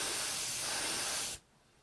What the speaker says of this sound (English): Well, it's spraying.